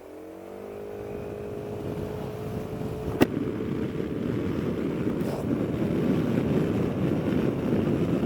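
Piaggio BV350 scooter with factory windshield starting on the electric button, then accelerating away as engine hum builds under steadily rising wind rush, with a sharp click partway through.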